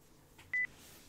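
A short electronic phone tone sounds once in the horror video game Don't Breathe: The Crooked Man, a clean brief beep against a quiet, dark ambient background.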